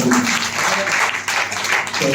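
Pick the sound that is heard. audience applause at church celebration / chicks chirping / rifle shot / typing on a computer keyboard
audience applause at church celebration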